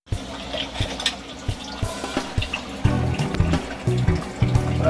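Water poured into a pan of pork, broccoli and mushroom, a continuous splashing trickle that thickens and grows louder partway through, with faint clinks of cookware around it.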